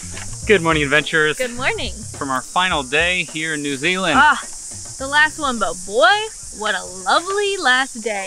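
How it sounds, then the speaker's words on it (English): Cicadas in a New Zealand park make a steady high-pitched buzz in the background, continuous and fairly loud, while people talk over it near the microphone. "We're just in a park right now, and you can probably hear all the cicadas in the background"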